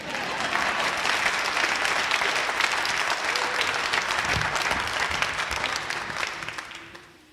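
A church congregation claps together in a dense, sustained round of applause that holds steady and then fades near the end.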